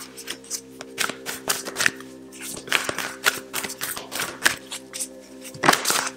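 Tarot cards being shuffled by hand at close range, as a run of quick riffling and snapping bursts with short pauses between them. A faint hum sits in the background and nobody talks.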